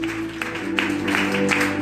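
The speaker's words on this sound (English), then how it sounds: "clap your hands for yourself" A church congregation claps their hands during a Sunday service. The applause is steady and fairly close, with a low organ or keyboard tone held underneath.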